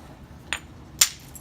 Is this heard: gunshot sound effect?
no